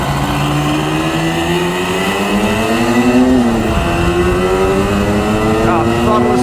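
A Suzuki GT200 X5 two-stroke motorcycle engine revs on an open road, a loud continuous buzzing drone with rising pitch through the gears and a brief dip at a shift, heard up close from the rider's position with wind noise.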